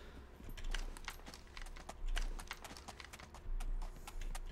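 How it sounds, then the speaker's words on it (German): Faint hooves of a horse in the video game SCUM clip-clop irregularly in quick clusters over a low background hum, with no one speaking. "Ich höre wieder ein Pferd."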